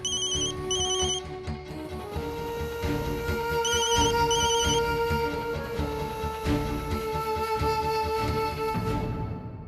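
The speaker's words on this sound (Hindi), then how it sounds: "रिंग तो यहाँ से आ रही है।" A phone ringtone repeats in short chiming bursts over a steady electronic melody, loud and close, with no voices.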